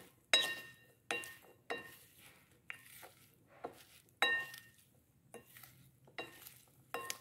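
A vegetable salad dressed with lemon juice, salt and olive oil is tossed in a bowl, giving a series of about ten separate clinks and scrapes of a utensil against the dish, spaced roughly a second apart, close and fairly quiet with no talking.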